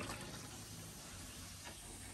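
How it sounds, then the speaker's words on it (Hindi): Hot water pours steadily into a kitchen sink being cleaned after baking soda and vinegar, a continuous broadband rush of running, splashing water close by with no talk. "गर्म पानी डालेंगे"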